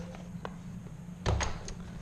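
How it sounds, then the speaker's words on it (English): A door on a home gym kit storage setup opens with a soft thunk and brief rattle, fairly close, followed by light clicks in a quiet room. "Open the door."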